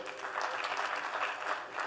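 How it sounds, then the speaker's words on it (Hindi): An audience applauds at a talk, a steady patter of many hands clapping at moderate distance for a couple of seconds. "मुझे आपकी तालियों से बहुत खुशी हुई"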